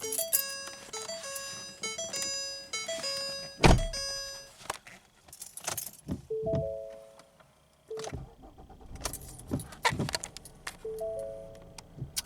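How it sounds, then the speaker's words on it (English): A car's switchblade key, several close metallic jangles and clicks, with bright electronic chimes and tones sounding in short repeated sequences between them. "You even get a switchblade key."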